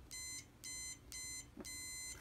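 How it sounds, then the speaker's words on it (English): A multimeter in continuity-test mode beeps as its probes touch, four short evenly spaced electronic tones, faint but clear against a quiet room. "I set the multimeter to continuity test, which has that little sound symbol on it."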